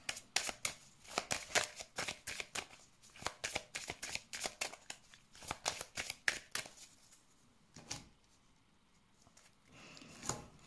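Tarot cards being shuffled for a reading, a fast run of crisp riffling and flicking bursts close to the ear, easing to quieter intermittent shuffles in the second half.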